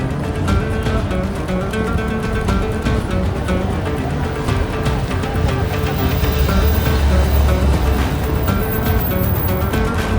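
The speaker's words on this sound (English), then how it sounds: "A lot of traffic, a lot of people, crazy amount, foot traffic, car traffic" Busy street traffic near the mosque in Medina makes a loud, steady roar of cars and crowd noise with no pauses.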